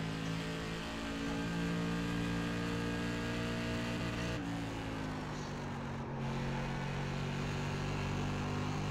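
A steady SK Modified race car engine drones continuously in a racing game at USA International Speedway, holding a constant pitch with a brief dip midway.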